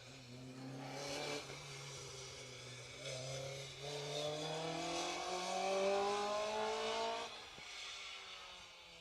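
An Opel Kadett rally car on a stage near Loch Tuath in the Western Isles, its engine note climbing steadily under hard acceleration for several seconds before easing off. Loud and close throughout, with no talk.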